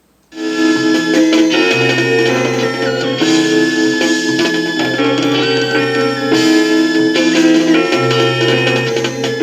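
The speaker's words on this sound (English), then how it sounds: "Real late 70s kind of Moog sound" A bright late-1970s Moog synth lead plays a sustained, gliding melody over a full jazz-rock band backing, loud and continuous without voices.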